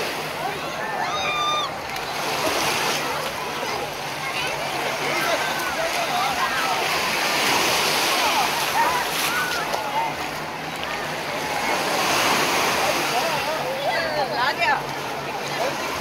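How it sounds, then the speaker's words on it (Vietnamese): Waves and surf at Haeundae Beach in Busan, South Korea, a continuous broad wash of water with wind noise, heard alongside background voices. "Đây là xung quanh bãi biển Haeundae."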